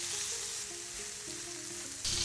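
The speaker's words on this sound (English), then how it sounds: "Let's go ahead and get them in the pan. I got that pan nice and hot." Steak sears fat cap down in a hot oiled pan: a soft, steady sizzle that stays fairly quiet and grows louder at the very end.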